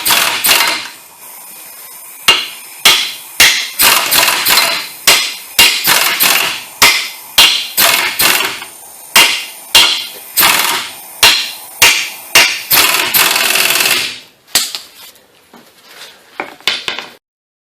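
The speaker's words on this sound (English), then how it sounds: "Hit it with a hammer a couple of times, because that squared it right up." A hammer striking a ball joint on a Nissan Versa under repair, delivering about twenty sharp metallic blows in steady bursts, loud and close, with no talk.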